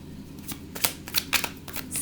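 Tarot cards shuffled by hand in a quick series of crisp riffling bursts and soft slaps, close and fairly quiet, with no voices.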